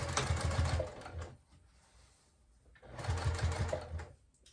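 A sewing machine top-stitches thick upcycled denim jeans into a bag, running in two quick bursts of rapid mechanical stitching separated by a quiet pause, close and clear.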